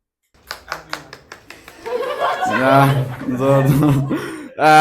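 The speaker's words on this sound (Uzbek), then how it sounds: "Qarsak olamiz." A few separate claps ring out at first, then a crowd erupts into laughter and voices, with more clapping mixed in near the end.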